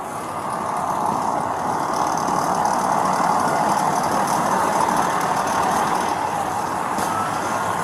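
Heavy traffic near a Florida bus rollover crash scene, a steady, loud engine roar like idling trucks and cars that stays constant throughout, with no speech.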